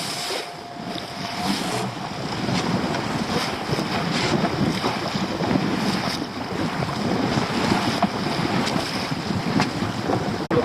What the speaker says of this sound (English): Probably hear that wind is getting up.